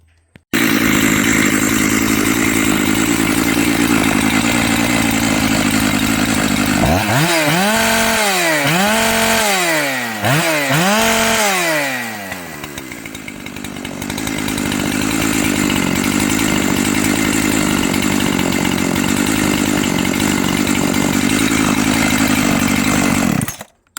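Makita EA7900P petrol chainsaw fitted with a 372 carburetor, running loud and close after repair: a steady high drone broken by several sharp revving surges and dips, then settling back to a constant roar.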